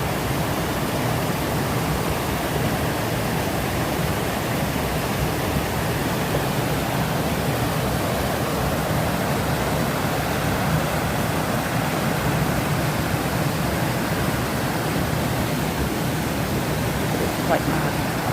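Golitha Falls, a series of cascading river waterfalls in Cornwall, roars with a steady, dense rush of churning water, loud and close and unbroken throughout, with a voice faintly present under it.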